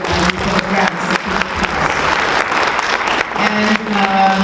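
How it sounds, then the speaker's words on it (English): An audience at a community recognition event bursts into loud, sustained applause, with dense clapping close by that continues throughout. "So I would like a round of applause for Sharon Colby and AWIU"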